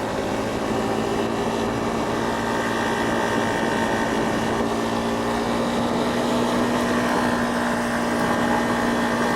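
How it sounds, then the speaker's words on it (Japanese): A Honda CRF250 Rally motorcycle climbs a steep slope at high revs, its engine a steady, sustained drone mixed with rushing wind noise, held at a constant level throughout without speech. "エンジンは高回転域まで何らストレスなく回りきるといった感じ。"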